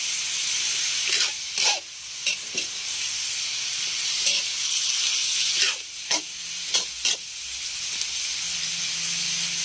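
Kangkong stems sauté in a hot pan with a loud, steady sizzle and hiss, broken by a few clattering stirs, heard up close with no speech.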